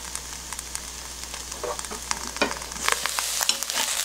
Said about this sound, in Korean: 가지를 구워주듯이 볶아야 되거든요.